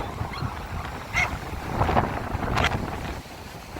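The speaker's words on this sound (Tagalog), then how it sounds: "Grabing hangin, ha?" Strong wind gusts roar across the microphone outdoors at Bagasbas, a dense, blustery rush that rises and falls over a few seconds.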